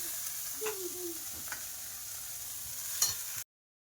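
Potato, pointed gourd and prawn curry sautés in oil with onion and garlic, a soft, fairly quiet sizzle with a few light spoon scrapes and a sharper clink near the end before cutting off.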